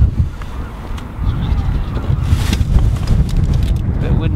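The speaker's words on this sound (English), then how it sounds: "A bit windy yet." Wind buffets a microphone on the shore at Scarborough during an early spring sea fishing session, a steady low rumble with a few gusts. A faint voice can be heard under the wind.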